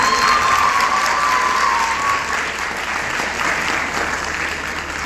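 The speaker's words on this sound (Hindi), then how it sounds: "तालियां बजाइए टीम के लिए" A poetry-contest audience at a Lahore university semi-final applauds a team, a dense steady wash of clapping from many hands that holds loud for the whole stretch with no voices above it.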